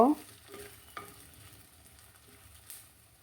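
Onions with ginger-garlic paste and salt are stirred in a pan for a taro, pea and egg curry, giving a soft close sizzle with a few sharp spoon scrapes and clinks against the pan.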